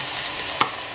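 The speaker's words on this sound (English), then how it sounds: "I love the sizzling sound when I cook something" Steady hiss of food sizzling in a hot pan, with a brief scrape or clink partway through.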